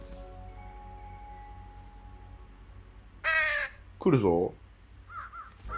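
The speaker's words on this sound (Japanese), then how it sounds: "カラスたちが来た。 やば、ゴミを漁ってる状態だ。" Crows caw in Trüberbrook as they scavenge through trash, with two loud harsh bursts and a fainter call near the end over a low humming ambience. A person speaks briefly.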